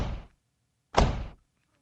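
A door in a house being tried and pushed open, heard as two distinct dull knocks or thuds about a second apart, close and fairly loud, with silence between.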